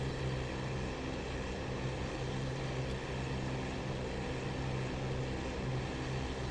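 A Focke-Wulf Fw 190 D-9 engine in flight in a video game, a steady droning propeller-engine hum, moderately quiet and continuous, with no talk.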